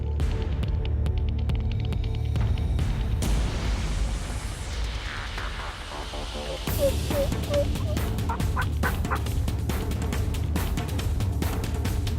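A wild spring gobbler turkey gobbles repeatedly, with loud, rattling calls near the start and more bursts later, over a low steady hum outdoors, with no talking.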